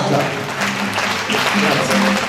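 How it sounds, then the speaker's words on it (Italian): Applause from the audience at a Canta Italia singing show in Stuttgart, a steady wash of clapping under cheering voices and talk that continues throughout. "un applauso e poi si inizia questa meravigliosa serata"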